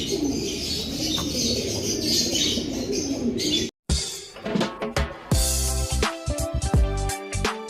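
Pigeons coo softly amid a busy flock, then the scene shifts to closer cooing and chirps with scattered taps and flutters.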